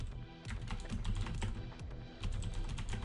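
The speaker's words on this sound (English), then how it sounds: "You'll still hear me typing a little bit." A keyboard sits right beside a streamer's microphone and is typed on in quick, dense bursts of close key clatter, fairly loud, with no one talking.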